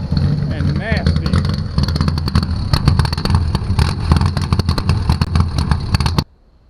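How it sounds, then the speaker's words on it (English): A loud, harsh 6-cylinder engine in a Chevrolet Biscayne revs hard through its exhaust, with rapid throttle blips and a throaty idle underneath for about six seconds before cutting off abruptly. "This is the loudest, most obnoxious sounding 6-cylinder I've ever heard in my life"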